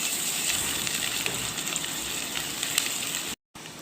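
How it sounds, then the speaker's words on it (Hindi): About half a tablespoon each of ginger and garlic fries in a pan for chicken khausa, a dense, steady crackling hiss close by, cut by a momentary silent gap near the end. "थोड़ा सा हम इसको फ्राई करेंगे।"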